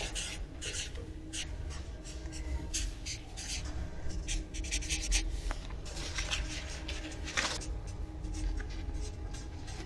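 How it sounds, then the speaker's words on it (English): A pen scratches across paper as someone writes out compliments, producing faint, quiet strokes and small scraping flurries in an otherwise hushed room. "You'll have 5 minutes to write out compliments for the other person."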